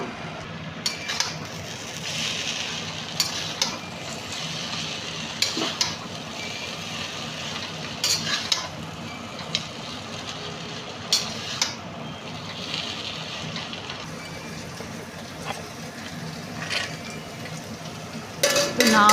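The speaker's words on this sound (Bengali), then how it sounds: "এর মধ্যে ভিনিগার দিলাম, সয়া সস দিলাম আর একটু চিলি সস দিয়ে এটাকে আবার ভালো করে ভেজে নেব" Chow mein stir-fries in a pan with vinegar, soy sauce and chili sauce, giving a steady low sizzle broken by repeated sharp scrapes and clinks of a utensil against the pan.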